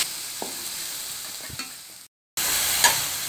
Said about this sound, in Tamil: தக்காளியும் வெங்காயம் நல்லா வதங்கணும்